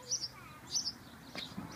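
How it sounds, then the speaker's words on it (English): House sparrow chirping at a nest hole, a few short, sharp, high tweets in quick pairs, fairly faint against quiet outdoor background noise. "It's a house sparrow."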